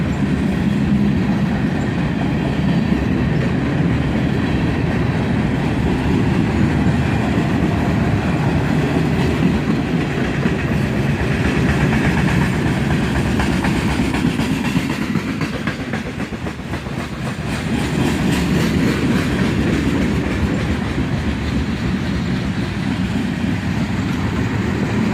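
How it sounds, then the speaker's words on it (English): An SD50 locomotive hauling a freight train with tank cars slows down in a siding at Carlisle; a continuous low rumble and rolling rail noise fill the clip, dipping briefly midway before steady wagon clatter resumes. "He's slowing down now, probably due to the second train that's in the other end of this siding to the"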